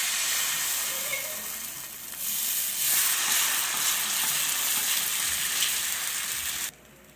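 A veg mayo cheese dosa sizzles on a hot pan with a steady, loud hissing fry, swelling slightly midway before cutting off abruptly near the end.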